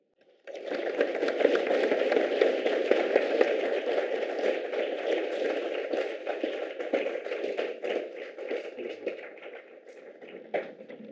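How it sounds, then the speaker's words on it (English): An audience at a housing and economy presentation in Jefferson County breaks into steady, dense applause that holds for about ten seconds before thinning toward the end, with some voices underneath. "Let's give another round of applause for Raven, everybody"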